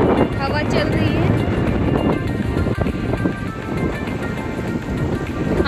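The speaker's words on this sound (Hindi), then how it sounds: "यहाँ पे बहुत जोर से हवा चल रही है।" Strong wind buffeting the microphone on the seashore at Kashid Beach, a loud continuous roar mixed with crashing surf, while a voice talks throughout over it.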